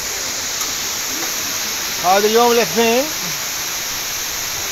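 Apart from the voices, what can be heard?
Ayder waterfall in Rize, Turkey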